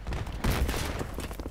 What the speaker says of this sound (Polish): Ło Jezu, jak te strzały padają.